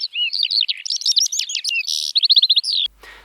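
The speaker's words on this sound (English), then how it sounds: "A lark is a bird. It makes a beautiful sound when it's singing" A lark sings loud and close in a rapid, continuous stream of high chirps, trills and warbles that ends abruptly after about three seconds.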